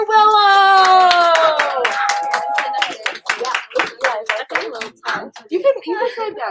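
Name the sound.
audience applause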